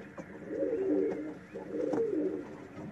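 Breeding racing pigeons in a loft coo softly, two rounded, throaty phrases a second apart, somewhat distant and low over quiet background noise.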